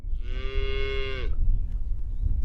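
A black-and-white speckled Texas Longhorn cow with big curly horns gives one long, loud, close moo lasting about a second, then falls quiet against a low background rumble.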